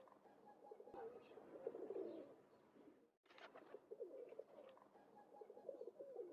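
A bird coos in the Nancy Drew: Phantom of Venice video game, soft repeated low calls in two phrases split by a brief pause, set against a quiet ambient background.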